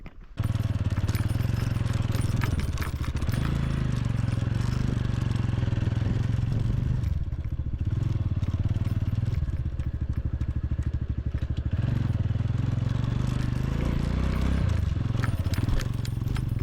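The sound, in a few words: motorcycle riding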